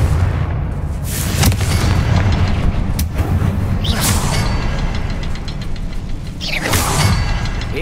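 Confringo explosive spell blasts in Hogwarts Legacy, loud booming bursts with sharp cracks repeating every second or two over a dense, continuous rumble.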